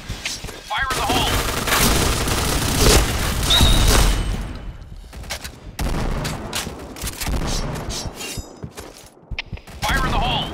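Grenade explosions and rapid gunfire crash through a Point Blank match, loud bursts and booming blasts overlapping in dense volleys, with game voice callouts shouted between them.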